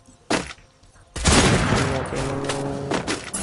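Sniper gunfire in the video game Free Fire: one sharp shot, then a loud blast with a ringing tail and echoing reports, close and punchy.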